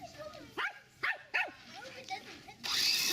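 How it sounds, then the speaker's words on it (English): Several dogs bark and yip in short, sharp bursts nearby, a few rising whimpers between, with people talking over them and a rush of noise at the end. "The dogs are getting at it."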